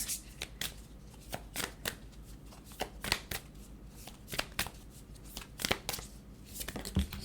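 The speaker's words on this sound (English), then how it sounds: "Now let's get some Moonology cards." Moonology oracle cards shuffled by hand, a steady run of crisp riffling snaps and slides close by, with one sharper clack near the end and no voices.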